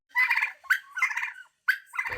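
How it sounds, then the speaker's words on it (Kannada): A pair of guinea fowl calling in loud, close, repeated harsh cackling bursts separated by brief pauses, with no talking. "ಇದು ಹೆಂಗೆ ಪೇರ್ ಗಿನಿ ಫಾಲು?"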